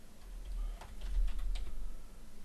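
Steady typing on a computer keyboard while naming objects in 3D software, a close run of quick key taps in irregular bursts, faint and with no talking.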